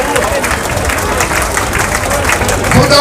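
A crowd at an honoring ceremony for elders in Jind claps loudly, a thick continuous patter of many hands close by, with voices and crowd noise mixed underneath.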